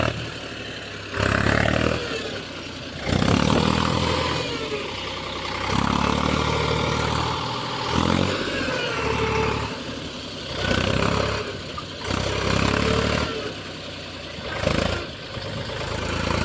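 A tractor engine runs nearby as it works its way out after getting stuck, a steady rumble that swells in several repeated revving surges over about sixteen seconds.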